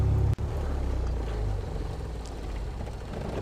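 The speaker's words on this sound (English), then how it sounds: "And we'll cut the engine." Light aircraft engine in the FSX flight simulator, parked at a small UK airfield, droning steadily and then winding down after a brief cut, its low hum fading and settling over a few seconds.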